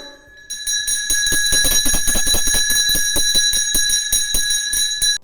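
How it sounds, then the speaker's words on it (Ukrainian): At a Ukrainian school's First Bell ceremony in Kupiansk, the school bell rings the first bell of the school year: a loud, sustained electric ring with rapid rattling strikes, lasting about five seconds, then stopping abruptly. "Хай перший дзвоник задзвонить, розбуде всіх навколо"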